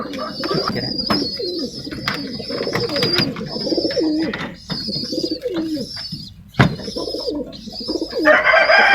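Sick pigeons suffering from a wasting illness coo repeatedly at close range, soft rhythmic calls layered with other birds chirping in the background.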